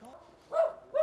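A dog in a residential alley in Serbia gives two short barks, close and fairly loud, with a brief yelping tone between them.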